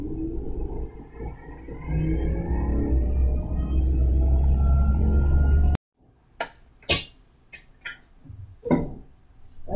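A laboratory centrifuge spins at 3,500 rpm, a loud, steady low whirring hum that runs for several seconds and then cuts off abruptly, followed by scattered faint clicks and handling knocks.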